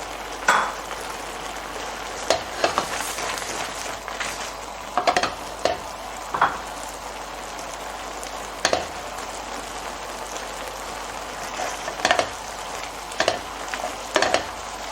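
Cheese being stirred into a tortellini alfredo sauce in a pan, a steady sizzling simmer broken by repeated scraping and stirring strokes, close and fairly loud, with no talking.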